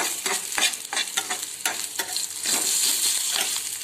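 Fried green chillies with a pinch of salt sizzle in a pan while a spoon stirs and scrapes in quick, uneven strokes over a continuous frying hiss.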